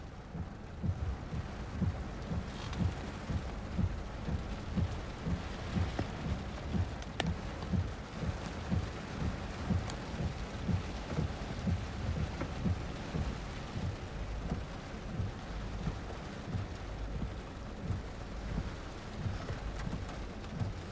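Steady rain from a supercell storm in Arizona pours down with a dense low rumble throughout, heavy and continuous, with no voices over it.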